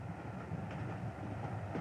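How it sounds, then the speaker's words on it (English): Steady, continuous rumble and rattle of a passenger train in motion, heard from inside a carriage compartment, with no voices. "I travel on this train regularly, twice a week."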